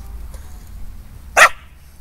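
A single short, sharp dog bark or yip from a dog in a home obedience class where it is being rolled onto its back, standing out against a quiet background.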